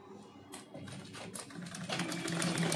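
Sewing machine stitching folded blouse fabric, a close, steady mechanical whir and needle patter that grows slightly louder toward the end, with no talk over it.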